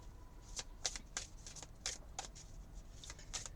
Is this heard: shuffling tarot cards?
yes